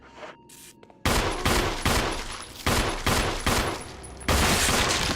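Loud video-game gunfire rings out in heavy, repeated blasts, each burst crashing in close at irregular intervals after a few quieter seconds.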